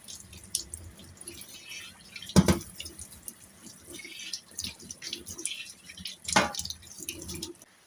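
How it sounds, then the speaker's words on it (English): A kitchen knife rinsed under running water from a tap, with a low steady trickle and two brief, louder splashing bursts as the blade passes through the stream. "Let me also wash my knife."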